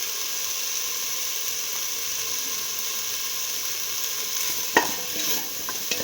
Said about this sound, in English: Saute and mix.